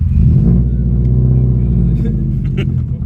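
A loud, deep Subaru engine rumbling and revving up close, sustained low growl throughout with a brief dip at the end.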